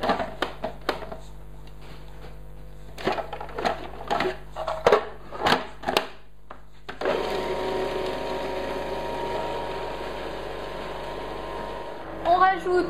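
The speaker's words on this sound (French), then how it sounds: "On va mixer." A food processor blends basil for pesto, first in several short pulsed bursts, then in a sustained steady motor whir close by, with a person speaking faintly around it.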